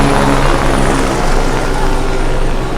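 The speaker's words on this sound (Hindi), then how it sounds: "और ये हेलीकॉप्टर देखिए" A helicopter flies near Kedarnath, its rotor and engine drone loud and steady throughout, close overhead with a continuous thrumming wash and no break in the sound.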